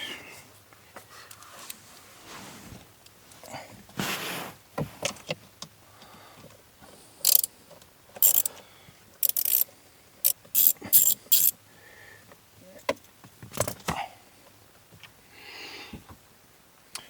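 A ratchet works on screws under the dashboard of a 2011 Ford Fiesta, giving short bursts of quick clicking in several separate runs with pauses between, close and clear over faint background handling noise.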